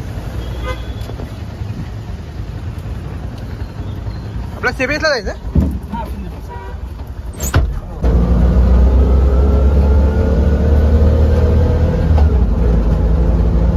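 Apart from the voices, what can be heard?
auto rickshaw ride in traffic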